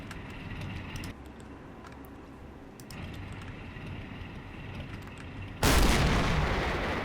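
Artillery fire in the wartime strategy game Men of War: steady rumbling battle noise with distant booms, ending in a loud, close blast that slowly decays.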